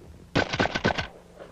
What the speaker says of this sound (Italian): Ora ricarico il mio Benelli e vediamo di eseguire il tiro con tre piattelli.